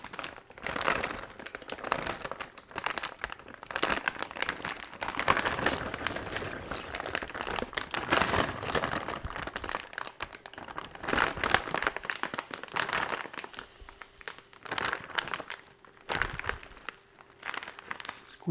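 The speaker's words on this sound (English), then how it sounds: "Now we're just going to zip up the bag." A plastic brining bag holding a turkey in citrus brine is zipped shut, giving a long run of close crinkling, rustling plastic with irregular bursts throughout.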